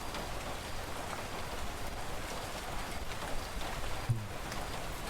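Rain falls steadily in the Hakuchuumu no Aojashin video game, a dense, even hiss of drops pattering on a surface that continues unbroken throughout, with one faint low knock near the end.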